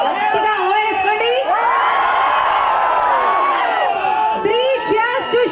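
A large crowd at a company family day event at a water park cheers and shouts loudly, a sustained roar of many voices close by with whoops rising above it.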